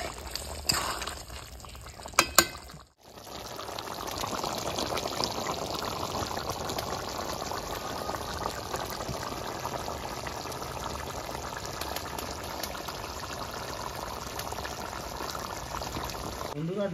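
Chicken simmers in a covered pot, a steady close bubbling boil that runs on after a brief clatter of the lid being set in place.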